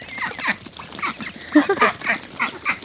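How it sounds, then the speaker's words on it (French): A group of ducks quacking repeatedly nearby, a steady chatter of short nasal calls rising and falling with no talking. "ce que vous entendez, c'est des petits canards en fond"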